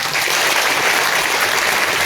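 Dense, steady applause from a crowd at a statue installation ceremony in Bamniya fills the whole stretch, loud and continuous with no voices standing out.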